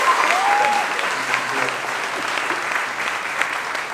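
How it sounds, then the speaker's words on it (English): Audience applause at a Hollywood Meets Nollywood film panel in New Orleans, a full room clapping steadily and fairly loud throughout. "So let's give a round of applause."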